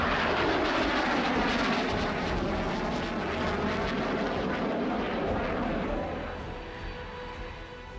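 Chinese air force fighter jets fly overhead with a loud, continuous roaring rush that fills the clip and eases off slightly near the end.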